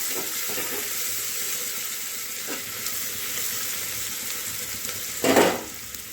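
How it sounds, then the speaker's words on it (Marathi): Onion sautéing in a pan for a village-style vajadi masala, a steady close hiss of frying with faint stirring scrapes and a sharp louder sizzle burst near the end. "नंतर ह्यात कांदा परतायला टाकू. कांदा जरा चांगला भाजून घ्यायचा."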